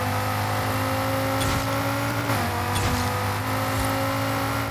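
A Dodge Viper GTS driving in the Forza Horizon 5 racing game, its engine droning steadily and loudly with small shifts in pitch and no talk over it.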